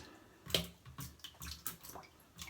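A shaving brush is wetted with water for vintage shaving soap, giving a few soft splashes and drips close by with quiet pauses between them.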